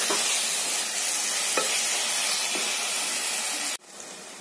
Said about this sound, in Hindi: उनको मीडियम आंच पे भून लें, 5 मिनट तक इस मसाले को भून लें।